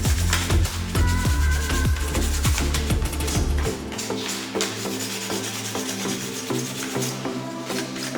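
Steady rubbing of sandpaper on a hand-sawn wooden letter, close by, a continuous scratchy rasp that persists over low background music, with no voices.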